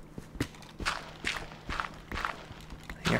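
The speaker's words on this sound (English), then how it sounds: "Footsteps." Footsteps in Minecraft FTB Lite, a run of about six evenly spaced, soft steps heard fairly close and alone, with a faint low hum in the background.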